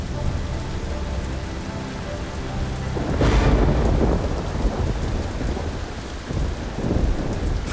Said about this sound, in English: winds and heavy rain thrash the city in the warm tropical air.